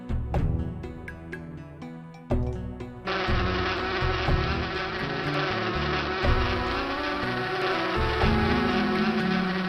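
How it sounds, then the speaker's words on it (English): Buzzing bees in a video game, a continuous insect drone layered over game music and sound effects, steady and fairly loud with no talking. "Fly away, little bees."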